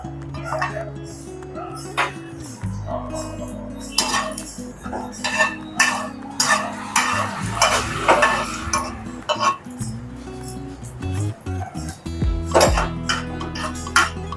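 Almond slices sizzling in ghee in a pan while a metal spoon stirs and scrapes, producing repeated clinks and knocks against the pan over a steady frying hiss, close and fairly loud.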